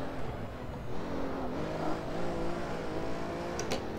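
A Pagani Huayra engine revs and pulls hard through the gears in the Assetto Corsa racing game. A steady, loud engine note rises and falls with no talking.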